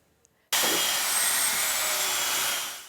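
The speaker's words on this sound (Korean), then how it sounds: "전기톱 굉음과 함께 150kg에 달하는 얼음 덩어리가 조각납니다." At a fish market ice shop, an electric saw suddenly bites into a large block of ice weighing about 150 kg, a loud, close, continuous harsh grinding roar that holds steady, then eases off at the end.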